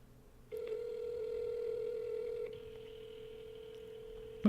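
A telephone call goes unanswered, giving a steady, fairly loud electronic tone that holds for a couple of seconds, then shifts to a slightly different tone that continues.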